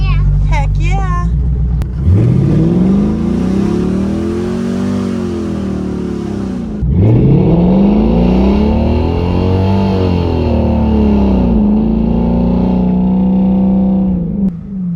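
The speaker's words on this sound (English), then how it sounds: "I think we can do a burnout." An LS V8-swapped Toyota Prius revs loudly during a burnout attempt, engine pitch sweeping up and falling back twice, up close, while people talk over it.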